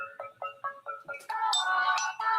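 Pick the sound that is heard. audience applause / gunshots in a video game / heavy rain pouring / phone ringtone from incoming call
phone ringtone from incoming call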